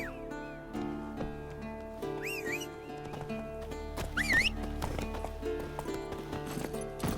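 Geralt's horse Roach from Witcher 3 gallops with quick, rhythmic clip-clop hoofbeats close by, over a layer of game music with occasional rising tones.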